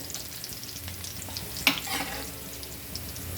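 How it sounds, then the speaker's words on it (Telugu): Mustard seeds, fenugreek, dried chillies and garlic fry in hot oil for gongura pappu, producing a steady close sizzle with one sharp clatter midway, no voices. "నూనె పోసి ఆవాలు వేసి మెంతులు, ఎండుమిర్చి, తెల్లగడ్డ ఇంకా నంచుకోవడానికి మిరపకాయలు కూడా వేసానండి."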